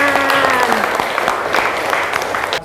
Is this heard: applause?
yes